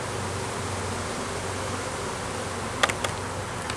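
Honey bees buzz around a hive being moved into a 10-frame box, making a steady, dense drone that fills the whole clip, with a couple of brief clicks near the end.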